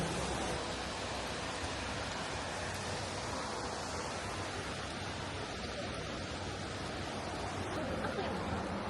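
Waterfall pouring from a considerable height, heard from directly beneath it where spray soaks the ground: a steady, loud, broadband roar of falling water that fills the whole clip without pause.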